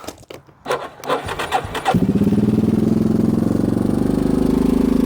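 An engine cranks with rough sputters, catches after about two seconds, then settles into a loud, steady, rhythmic idle while warming up in the cold.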